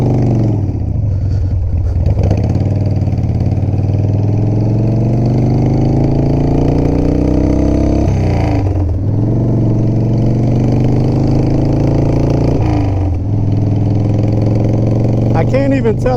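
Harley FXR engine running loud and close, rising in repeated revving climbs through gear shifts as the bike rides along, with a rider's voice faintly over the steady roar.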